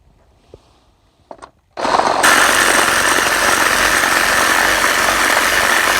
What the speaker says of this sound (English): I'm fixing this dewalt tool with another dewalt tool and Ryobi bits.